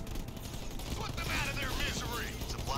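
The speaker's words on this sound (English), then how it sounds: "these Marines are firing on him!" Marines firing steady automatic gunfire in the strategy game Halo Wars, a dense continuous rattle of shots with whooshing effects mixed in, moderately loud throughout.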